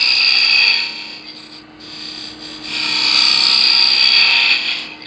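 A wooden pepper mill blank spins on a lathe while a tool straightens it, giving a loud continuous high rasping and whirring that dips briefly in the middle and then resumes at full strength.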